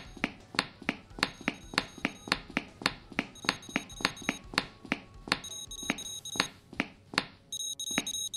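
In a stage of the video game School of Insanity, a beeping item gives off a fast run of sharp, regular electronic beeps that quicken toward the end, heard clearly with no talk over them.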